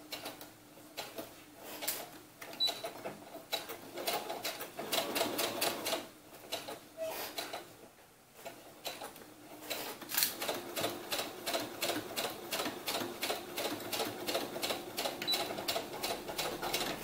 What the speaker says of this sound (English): I'm going to sew straight across here.